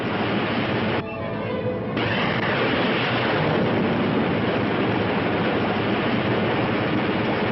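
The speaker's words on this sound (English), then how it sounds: "Engines at full RPM." Spacecraft rocket engines at full power in a 1960 low-budget sci-fi film, a steady, loud, broadband roar that runs continuously throughout, with a brief dip in texture near the start.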